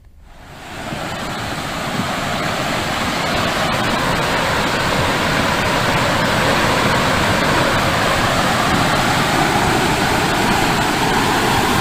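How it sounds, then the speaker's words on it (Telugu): Flood water roars through eight raised gates of the Prakasam Barrage, a loud, steady, broadband rushing that swells over the first two seconds and then holds constant, heard alone with no voices. "వరద నీరు పెరుగుతుండటంతో ప్రకాశం బ్యారేజ్ లో 8 గేట్లు ఎత్తి నీటిని దిగువకు విడుదల చేస్తున్నారు"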